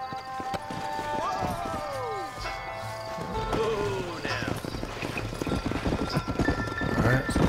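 Horse hooves clip-clop in Red Dead Redemption, a steady trotting rhythm close by, mixed with game music, a brief whinny and talking voices over the top.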